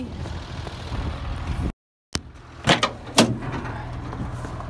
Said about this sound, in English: One door opens, the other one's stuck.